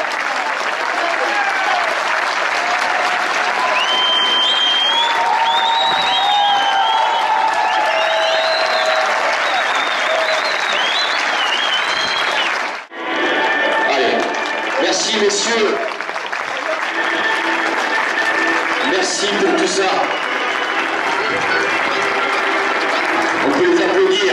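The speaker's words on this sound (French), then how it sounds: "je crois qu'on peut l'applaudir." Applause from a large outdoor crowd at a traditional cow race and parade in Eyragues, a steady dense clapping that runs nearly the whole time, briefly dipping once midway, with voices mixed into the crowd.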